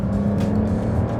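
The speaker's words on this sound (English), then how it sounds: "this has the active sports exhaust" Porsche 911 Turbo S with a titanium active sports exhaust, a steady loud engine drone with a deep low rumble held throughout the short moment, no talk.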